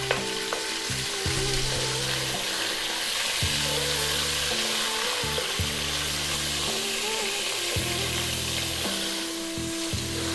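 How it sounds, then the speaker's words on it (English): Beef pieces frying in a pan over high heat, a continuous strong sizzle with occasional shifts and bumps of the meat, close up and with no voices. "And on a high heat, we're going to fry it for 4 minutes"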